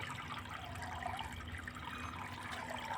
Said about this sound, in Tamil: இது பெருசாக ஆகும்போது அது கீழே அந்த தண்ணி அப்படியே கீழே விழுந்துடும்